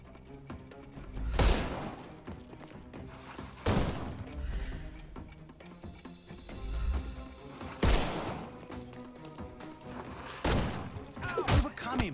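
Gunfire in a Sherlock Holmes video game combat scene: several sharp, loud shots and bursts spaced a few seconds apart over a busy game soundscape.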